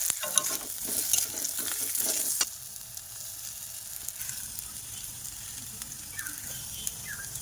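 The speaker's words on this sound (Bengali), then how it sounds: "আমার মাছগুলো ভাজা হয়ে যাওয়ার পর আলুগুলো ভেজে নিচ্ছি" Potatoes frying in oil in a home kitchen after fish were fried, a steady sizzle with stirring for the first two and a half seconds, then a much quieter, faint hiss with occasional light clicks.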